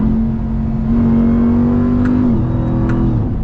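A throaty truck engine, a 2021 Ram TRX or Shelby Baja Raptor, holds a steady drone, then its pitch shifts down as it downshifts, loud and close with no talking.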